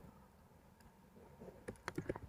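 Keys on a computer keyboard tapped in a short quick burst near the end after quiet room tone, faint and close, with no voices.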